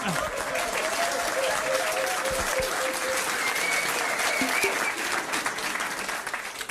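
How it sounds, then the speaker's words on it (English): Sustained applause from a pub crowd at a trivia quiz night, steady dense clapping with some cheering mixed in, filling the room for several seconds. "Give them a round of applause"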